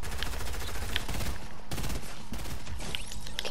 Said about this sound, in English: Oh no, someone's shooting at me.